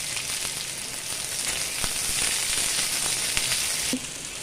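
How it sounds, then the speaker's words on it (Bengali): Chopped onion goes into hot oil that has already fried garlic and nigella seeds, making a steady, close sizzle with fine crackles and a slight drop in level near the end. "এবার পেঁয়াজ কুচনোটা দিয়ে দেব"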